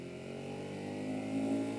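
A Ducati Monster 1200S engine revs in sport mode, a steady droning tone that rises slightly toward the end, fairly quiet and without talk.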